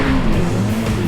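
A front-engine Ferrari Roma's tires squeal and skid loudly as the rear breaks free, over a steady engine roar, continuous for about a second.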